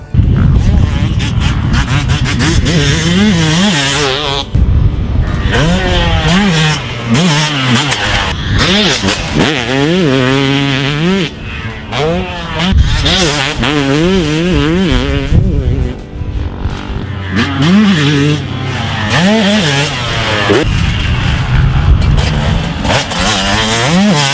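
A Suzuki RM250 two-stroke motocross bike, a factory MXDN racer, revs loudly and repeatedly with rising and falling wails as the rider works the throttle. A voice talks over the engine throughout.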